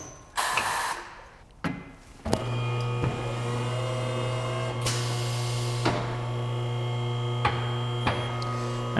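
Hofmann tire changer turning a tire to help seat the bead, a steady loud motor hum running throughout with a few sharp mechanical clunks and a brief hiss at the start.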